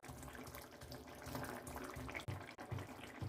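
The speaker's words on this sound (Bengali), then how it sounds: "এর মধ্যে আমি জল অ্যাড করে দেবো" Water pouring into a pan of Bengali puti fish vegetable curry, a steady close splashing and trickling that runs for a few seconds with brief dips near the end.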